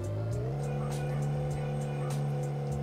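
Open-cockpit race car, a modded vehicle in the Reckless Driver video game, drives with a steady high engine drone and rising revs, with faint clicks and tire noise throughout.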